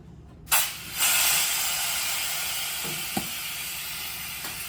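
Compressed air on a Geyer Fillmaster 5000 cartridge filling machine is shut off: a sudden close hiss bursts out, swells again a moment later, then settles into a steady fading rush, with a couple of small mechanical clicks near the end.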